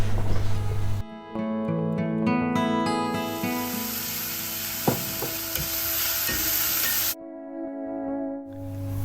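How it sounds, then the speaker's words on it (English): Sugar caramelizes in mustard oil in a pan with a steady, close-up sizzling hiss over a faint background hum, and a few light clinks come through before the sizzle cuts out near the end. "in the same pan, I have added a spoon of mustard oil and a half teaspoon of sugar"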